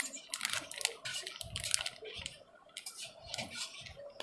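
A spoon clinks and scrapes in a bowl as mashed potato is mixed with chaat masala for a potato snack, with quick, irregular taps and scrapes close by and no talking.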